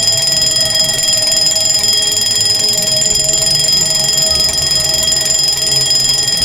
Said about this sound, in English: by the earth-shattering sound of my alarm